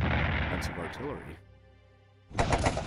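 Artillery in the World War 1 strategy game Strategic Command: a booming blast with a rumbling tail, a quiet lull, then another loud burst of fire; a voice talks at the start.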